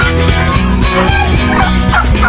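Turkeys and other poultry leaving a farmyard coop gobble and cluck loudly and close by, in a dense, continuous chorus with no talking.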